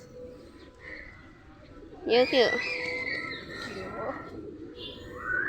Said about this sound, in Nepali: अब परेवालाई दाना दिने, तर मसित दाना छैन।